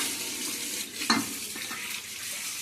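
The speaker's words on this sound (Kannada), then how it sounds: "ನೀರು ಹಾಕ್ತೀನಿ." Water goes into a hot, sizzling pan while mixed-pulse and palak sambar cooks; a steady hiss and crackle fills the clip, with a brief louder splash and spit near the middle and no talk.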